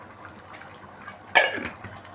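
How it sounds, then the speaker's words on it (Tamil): Mustard seeds splutter in hot coconut oil in a home kitchen while cooking a vegetarian millet curry, giving a soft crackle and then a brief louder sizzling burst close by, with no talk. "கடுகு வெடிச்சிருச்சு."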